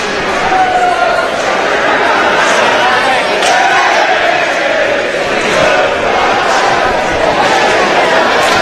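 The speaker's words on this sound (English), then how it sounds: "the crowd begins chanting" A hockey crowd at a Beavers game chants late in the game, a loud, dense roar of many voices filling the arena continuously, with faint announcer talk underneath.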